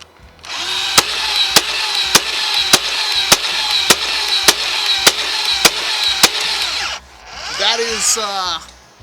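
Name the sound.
NERF Dart Tag Speedswarm blaster firing darts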